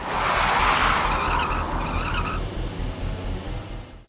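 Tires skid and squeal loudly as a car, taken from a shopkeeper, speeds off in pursuit, with a continuous engine roar close by that fades slightly toward the end.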